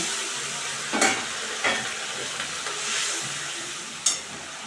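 Onion, tomato and chili gravy for a fish curry fries in a pan with a soft, steady sizzle and hiss, broken by a few brief clinks and stirring sounds as water goes in.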